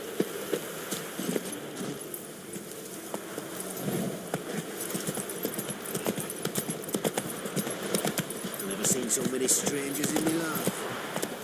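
Horse hooves clip-clopping steadily in The Witcher 3 as a mount is ridden, a continuous patter running under game ambience and occasional voices.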